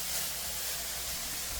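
Kimchi stir-frying in a pan gives off a steady, soft hissing sizzle, faint and unbroken, with no voices over it.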